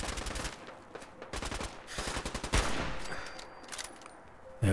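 Automatic weapon laying down suppressive fire in Fallout 4, rapid bursts of shots in several quick strings, loud and close, with no talking.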